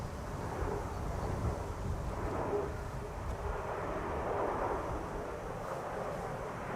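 A KLM airliner arriving at Schiphol Airport from Budapest: a distant, steady jet roar with wind buffeting the microphone, fairly faint and unbroken throughout, no voices.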